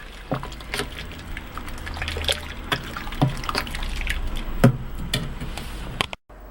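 Melted transparent glycerin soap pours out in a thin trickling stream, with soft liquid dribbles and occasional light clinks, fairly close and quiet, ending abruptly.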